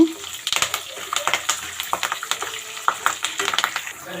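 Dried red chillies, green chillies and curry leaves stirred in hot oil for lemon pulihora, with a soft steady sizzle under repeated scraping and clattering of a spoon against the pan, close and moderately loud.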